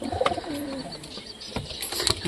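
A newly hatched pigeon chick calls with soft, thin cooing cheeps and faint pecking taps, heard close up in a quiet coop with no talking.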